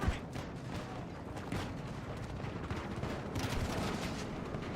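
Gunfire from the video game Battlefield 6, a steady stream of rapid shots and distant explosions blending into a dense, continuous battle din at moderate loudness.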